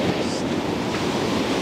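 Ocean surf washing onto a UK beach, a dense steady rush of breaking water mixed with wind buffeting the microphone, loud and close throughout the brief stretch.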